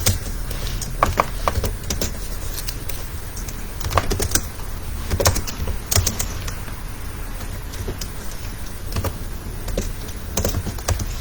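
A computer keyboard is typed on while writing a JavaScript program for Node.js, giving bursts of quick, crisp key clicks with short pauses, close by and without speech.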